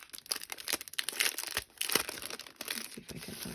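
Faceted incolor jewel rhinestones in their packaging are opened up close: dense, irregular plastic crinkling and crackling with sharp little tearing bursts, steady throughout with brief pauses and no talk.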